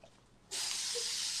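Aerosol spray can running low, starting abruptly into a loud, steady close hiss that continues for about a second after a quiet moment.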